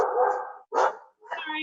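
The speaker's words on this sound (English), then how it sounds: "my dog was barking." A dog barking nearby in a home, three loud barks in quick succession, the last one higher and more whining.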